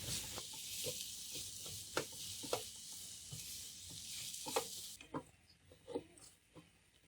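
Boiled, mashed potato filling is stirred in a hot pan, with a steady sizzle beneath repeated scraping strokes of the spoon. The sizzle quiets noticeably partway through while the stirring taps continue, and no one speaks.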